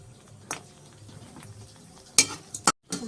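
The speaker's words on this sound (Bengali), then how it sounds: "এখন আমি এই বড়িগুলো একটু ভেজে নেব" Sun-dried lentil dumplings (bori) fry in hot oil in a pan: a low, soft sizzle runs underneath while a spatula scrapes and clinks several times, sharp and close, toward the end.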